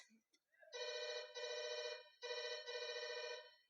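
A telephone rings as a call is placed to a police station during a Kannada stage drama, with two loud, close bursts of electronic ringing separated by a short gap, after a few brief clicks of dialing.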